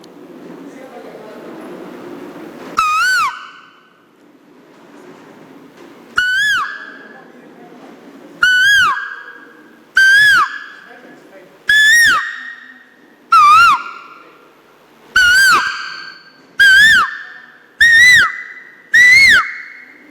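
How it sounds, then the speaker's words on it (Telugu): An Asian koel calls ten times, each one a loud, clear rising whistled note, spaced a second or two apart and growing closer together. Faint background noise sits between the calls. "ఇప్పుడు కోకిల యొక్క ధ్వనిని మీరు వినబోచున్నారు"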